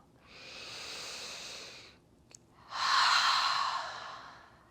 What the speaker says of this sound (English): take a full breath in through the nose and then an open mouth exhale